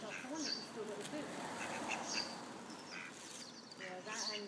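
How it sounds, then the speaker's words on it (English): Several ducks quacking repeatedly, nasal calls overlapping at moderate distance over a steady background hiss. "I think it's a couple of ducks."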